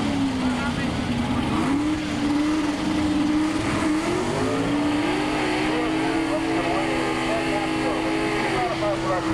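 A modified production Pontiac drag racing at the 1985 IHRA Summer Nationals in Edgewater, its engine holding a loud steady roar with a slight pitch waver, heard from trackside with a commentator talking over it.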